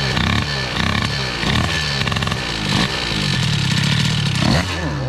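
Scooter engine with a Stage6 MK2 Sport exhaust and air-cooled hybrid cylinder running rich at low throttle, a loud, rough, uneven two-stroke burble with stuttering pulses, close up.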